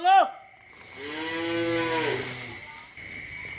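A heifer on a farm at night gives one long, loud, close moo lasting a couple of seconds, preceded by a brief sharp call and followed by quiet background noise.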